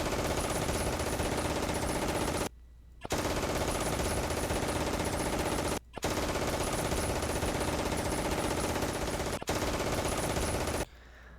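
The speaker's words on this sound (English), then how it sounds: "here's the machine gun" A machine gun in the Plane Crazy video game fires in long, continuous rattling bursts separated by brief pauses, steady and fairly close.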